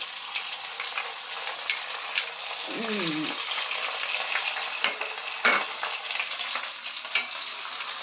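Chicken curry with masala paste sizzles in a pan while a spoon stirs and taps against it, a continuous hiss with occasional clicks and one brief voice partway through.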